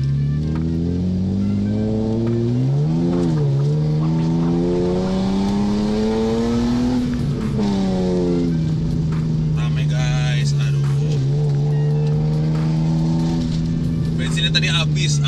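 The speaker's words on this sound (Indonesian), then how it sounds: "Akhirnya gue udah bisa ngegas sekarang." A BMW E36 323i coupe engine drones loudly and steadily, its pitch climbing and falling as it revs and accelerates through gears, heard from inside the car.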